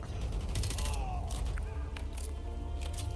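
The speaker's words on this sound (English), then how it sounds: "I'm also hearing a dozen thousand bullets" Bursts of gunfire in the video game Call of Duty: Modern Warfare 2, including suppressed shots, rattle in rapid clusters with sharp cracks and mechanical clatter over a dense background.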